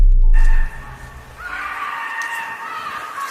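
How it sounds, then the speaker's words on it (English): A long, high, blood-curdling scream rises after a brief loud thump, sustained and piercing, with a wavering, almost animalistic tone and no talk. "Suddenly a scream pierced through the silence."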